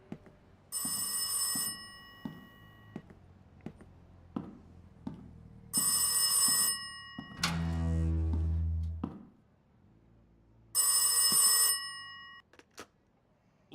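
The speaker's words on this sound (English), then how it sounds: "I hear a phone ringing" A phone rings in the virtual-reality horror game Rise of Insanity: three separate bursts of ringing with pauses between them, soft footstep-like taps, and a deep rumble in one gap.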